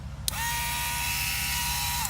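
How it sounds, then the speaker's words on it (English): A handheld rotary drill set fitted with a grinder bit runs at steady high speed after a sharp click at start-up, a loud continuous whine close by, with no talking. "get you one of these rotary drill set. It comes with a grinder."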